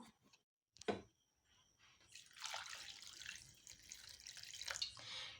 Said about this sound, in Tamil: இப்போ இதை தண்ணி ஊற்றலாம்